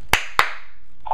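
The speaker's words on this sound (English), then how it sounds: "Double clap." Two sharp hand claps, a quarter second apart, given as a command to a MiP self-balancing robot, loud and close, followed by a brief faint robotic tone.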